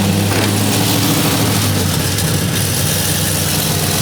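A Chevelle V8 runs at a steady, loud idle right up close, a constant low rumble with even tone throughout and no voices.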